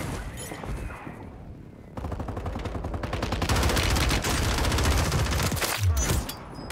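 Rapid automatic gunfire in Call of Duty Warzone on Rebirth Island, bursts of quick shots that build into a loud, sustained stream of fire after a short lull, close and harsh.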